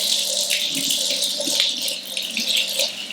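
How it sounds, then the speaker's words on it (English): Tap water runs over a pomegranate as it is rinsed by hand, a steady close splash with small rattles and shifts as the fruit is turned. "we're going to wash the outside of the pomegranate"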